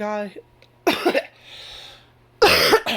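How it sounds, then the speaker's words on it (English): A couple of sharp coughs break up otherwise quiet moments, set between bits of close, clear speech. "and then I had to cough"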